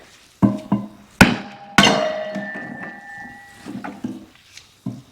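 Sharp metallic strikes of a club hammer hitting small pieces of wood on a kindling cracker, a few separate loud impacts with ringing tails and small clinks between them.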